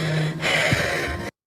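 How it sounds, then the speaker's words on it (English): Heavy breathing sounds close and loud as a rough rush of air with a gasping catch midway, then cuts off abruptly, with no talk. "That breathing sounds like something else."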